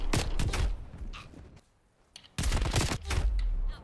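Automatic gunfire in Call of Duty Black Ops Cold War rattles in dense, loud bursts, falls quiet for a moment, then erupts again in another rapid volley.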